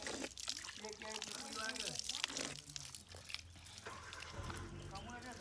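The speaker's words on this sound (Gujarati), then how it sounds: "આ રીતે પાણી આવે છે આપણું નર્મદાનું પાણી આવે છે" Narmada supply water flows out in a steady, close rush and splash, running continuously beneath people talking throughout.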